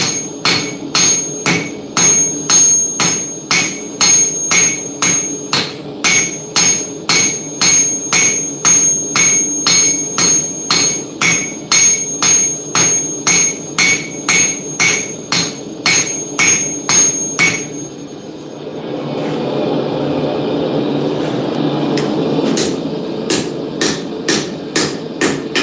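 Steady, evenly paced hammer blows ring out on a hot steel chisel being forged at the anvil, loud and close, with a brief pause for a rougher grinding noise before the strikes resume.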